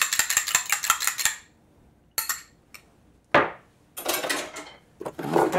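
Egg wash for sealing egg rolls whisked in a bowl, a fast run of rhythmic clicking strokes, then a pause and several more bursts of clattering whisking, close and alone.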